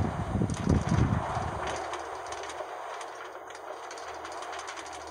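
Manila LRT Line 2 train running in Minecraft, a rumbling rail sound with low bursts early on settling into a steady whooshing, wind-like drone.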